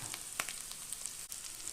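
Food frying slowly in a hot iron pan over a low flame, a soft, steady sizzle with faint crackles and a brief stir, heard alone without voices.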